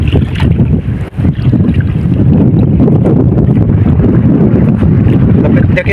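Strong wind at sea on a fishing trip roars and buffets the microphone without letup, a dense rumbling rush with a brief dip near the start, likely with a boat and water beneath it.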